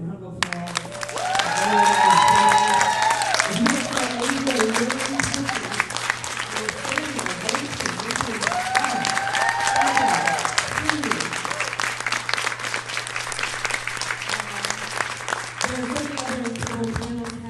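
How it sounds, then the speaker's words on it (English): A panel audience applauds steadily for several seconds, a dense patter of clapping that rises and holds, with voices and a little cheering mixed in underneath. "Everyone, can we please get a round of applause?"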